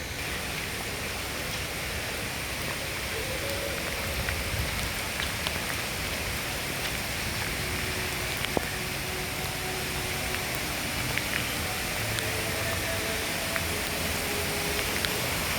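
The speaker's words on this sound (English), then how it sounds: "It's raining in Pandora." Steady rain falls continuously at Walt Disney World's Animal Kingdom, in the Pandora area, a dense wash of patter with occasional louder drops, no voices.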